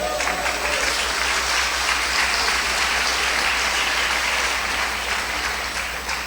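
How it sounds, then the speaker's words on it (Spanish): A church congregation applauds during a sermon, a loud, thick wash of clapping that holds steady for several seconds with no speech over it. "¿Cuánto le dan aplauso a Cristo?"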